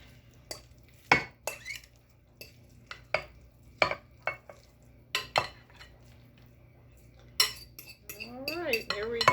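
Meatloaf mixture pressed down into a baking pan, heard as scattered sharp utensil clinks and soft thuds against the pan, spaced irregularly, with faint sounds building at the end.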